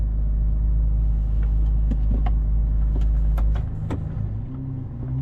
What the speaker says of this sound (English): you're going to hear that engine. A lot of people call this the mini V12